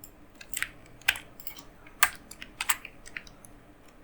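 Fingers tap on a computer keyboard in an irregular run of quick, light clicks over a few seconds, close and fairly quiet.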